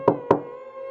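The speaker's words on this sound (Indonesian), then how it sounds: "terdengar suara pintu diketuk pelan" Two slow, distinct knocks on a door, resonant thuds about a quarter second apart, followed by a ringing, fading tone.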